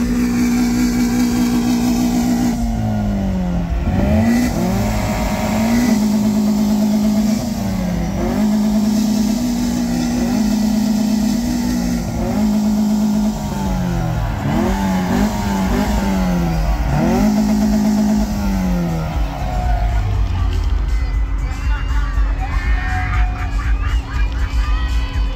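Volkswagen Golf cars at a VW campfest campsite rev their engines repeatedly, each rising roar falling back to idle, loud and close over a steady rumble and faint crowd noise.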